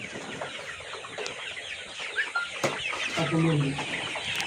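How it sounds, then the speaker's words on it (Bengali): A rooster of about 1.3 kg, a colour bird breed, clucks and calls in short bursts close by against a steady farmyard background, with a faint voice now and then. "আরও একটা মোরগ ধরে আনা হয়েছে।"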